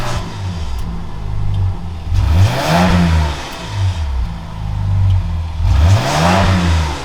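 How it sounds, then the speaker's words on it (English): A 2023 Grand Wagoneer SUV's 3.0 Hurricane engine revs twice in strong surges, rising and falling in pitch between a low idle, with no one speaking. "Kelly, can you give me a little revs?"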